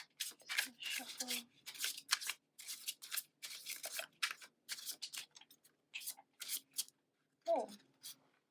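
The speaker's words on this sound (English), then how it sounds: "Shuffle." Tarot cards shuffled by hand in a run of quick, soft riffling and slapping bursts, close and fairly quiet, with a brief voice near the end.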